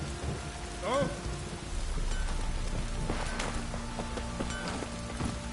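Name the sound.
rain and thunder in the video game Witcher 3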